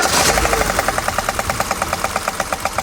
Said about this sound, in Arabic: عندنا بروي في الموتور هذا